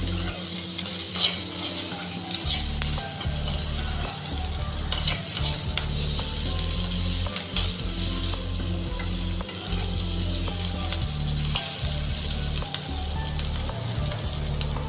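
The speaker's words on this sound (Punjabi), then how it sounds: "ਲੋ ਜੀ ਆਪਾਂ ਹੁਣ ਸ਼ਿਮਲਾ ਮਿਰਚ ਨੂੰ ਵੀ ਥੋੜੇ ਜਿਹੇ ਸਮੇਂ ਲਈ ਭੁੰਨ ਲਾਂਗੇ" Chopped capsicum (bell pepper) sizzles steadily while it is roasted in a pan for paneer bhurji, with a close, continuous frying crackle and occasional stirring scrapes throughout, and no talking.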